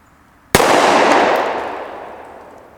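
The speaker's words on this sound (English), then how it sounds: "That next to the last shot, again, it got off before I meant to." A single sharp gunshot from a concealed carry handgun fired at close range, loud and alone, with a long echoing decay trailing off over about two seconds.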